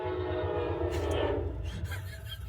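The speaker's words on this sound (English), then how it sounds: "The train. The train." A passing train gives a low, heavy rumble close by, with a brief horn-like tone rising over it partway through.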